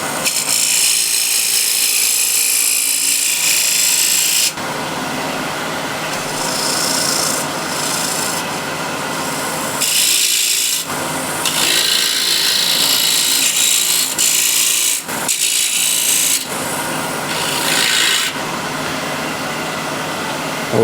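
Wood is shaved off an offcut with loud, close, harsh scraping and rasping in long strokes, broken by brief pauses and shifts in tone.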